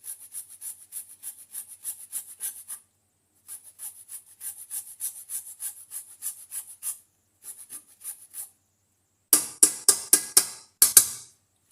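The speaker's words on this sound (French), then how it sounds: "je râpe un morceau de gingembre frais" A piece of fresh ginger is rubbed against a grater in quick, rhythmic rasping strokes, close and crisp, in two long runs, then a short burst of harder, louder scrapes after a pause.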